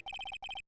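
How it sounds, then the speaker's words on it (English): Electronic mobile phone ringtone in a video game, two quick bursts of a bright repeating melodic trill separated by a short gap, clear and close with no talking. "I heard a phone ring just now. One of those newfangled ringtones."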